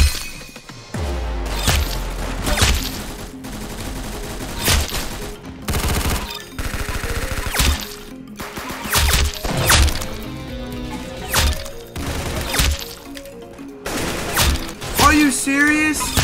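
Rapid assault rifle bursts in a first-person shooter video game, loud and close, rattling volleys broken by short pauses and mixed with impact and mechanical clatter, with a player's voice talking over parts of it.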